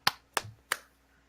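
Three sharp hand claps in a steady, evenly spaced rhythm, close and crisp, each dying away quickly into a quiet room with no voices.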